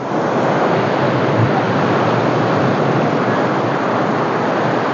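Steady roar of sea surf where the sea meets the Aklan River outflow, broad and continuous with a wind-like hiss, no distinct breaks between waves, loud and close throughout.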